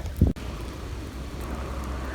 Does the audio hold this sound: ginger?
no